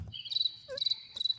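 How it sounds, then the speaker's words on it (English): A cricket chirping sound effect plays in short repeated trills, three bright bursts in quick succession, alone and fairly close. "Do we have crickets?"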